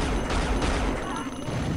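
Enemy gunfire in the Unreal video game forms a dense, continuous fusillade, loud and close, with rapid overlapping shots filling the whole moment.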